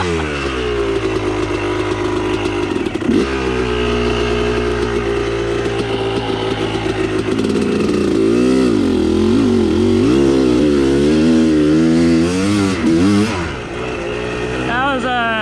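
A dirt bike growls and revs loudly close by while crossing creeks, its engine pitch rising and falling in waves through repeated throttle blips, with a short dip in the middle.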